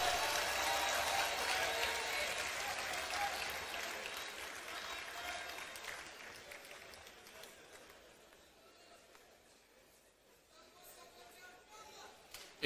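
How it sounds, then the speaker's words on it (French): A large audience at a political party gathering applauds the entrance of the National Assembly president, loud dense clapping that gradually thins and fades to quiet over about twelve seconds. "Je voudrais qu'on applaudisse l'entrée du président de l'Assemblée nationale"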